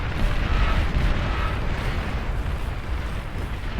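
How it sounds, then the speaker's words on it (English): In the strategy game Beyond All Reason, a Jug unit blows up in a nuke-sized blast, heard as a loud, sustained roaring rumble of debris and fire that fills the whole stretch without a break. "Jug explodes with the size of a nuke when it dies"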